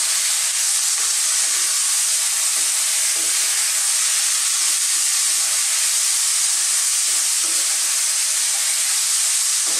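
Sardines sautéing with tomato in a hot pan give a loud, continuous close sizzle and hiss that holds steady for ten seconds, with faint stirring taps underneath and no talking.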